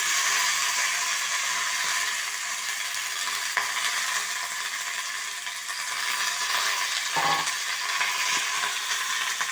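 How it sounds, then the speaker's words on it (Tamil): Musumusu leaves sautéing in a pan make a steady, close sizzle and fry with a couple of brief stirring scrapes, with no voices. "இது கூடவே இந்த இலையை முசுமுசுக்கேன இந்த இலையை வந்து நான் சேர்த்து வதக்குறேன்."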